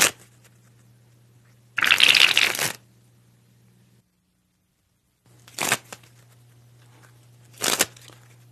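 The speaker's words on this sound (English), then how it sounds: "This is also a very good exercise for practicing the pressure fan, springing the cards off the tips." Playing cards are sprung from the fingertips in a pressure fan flourish: three separate bursts of fast, fluttering riffling, the first long and loud, the later two shorter, each separated by quiet gaps with a faint low hum.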